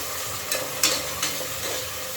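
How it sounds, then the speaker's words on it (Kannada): Onion and green peas frying together in a pan, a steady soft sizzle with a few sharp scraping clicks from stirring, close and moderately loud, no voices. "ಆನಿಯನ್ ಮತ್ತು ಇದು ಗ್ರೀನ್ ಪೀಸ್ ಒಟ್ಟಿಗೆ ಹಾಕ್ತೀನಿ. ಇದು ಒಂದು ಸ್ವಲ್ಪ ಫ್ರೈ ಆಗುತ್ತೆ."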